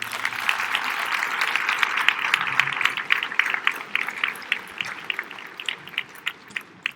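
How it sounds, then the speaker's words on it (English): A crowd at a high school athletic awards program gives a round of applause for the baseball players, a dense wash of many hands clapping that gradually thins to scattered claps. "I think they might deserve a little bit of a round of applause."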